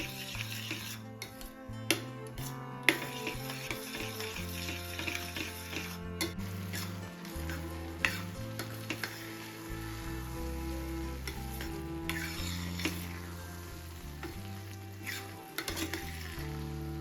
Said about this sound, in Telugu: ఇదంతా కొంచెం దగ్గరగా అయ్యే వరకు మనం కలుపుకుంటూ ఉండాలండి